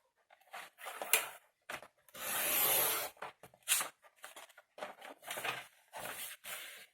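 Scissors or a trimmer cut through patterned scrapbook paper, with quick close snips and rustles and one longer sliding cut, soft and intermittent with pauses.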